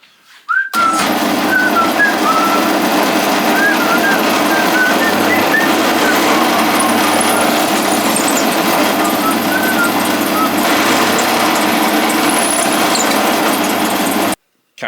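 A power drill whines steadily and loudly for over ten seconds, biting continuously into wood with slight pitch wobbles before stopping abruptly.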